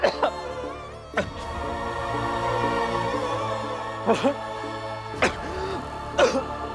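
A person coughs and clears the throat in short bursts at about one, four, five and six seconds, close and fairly loud, over a steady indoor background of music.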